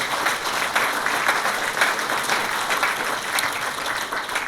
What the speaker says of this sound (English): how about a round of applause for our wonderful panellists?